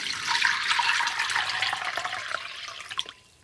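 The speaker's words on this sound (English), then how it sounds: "I'm gonna cover them with water." Tap water pours into a bowl of shelled dry beans, a close splashing stream that tapers off and stops near the end.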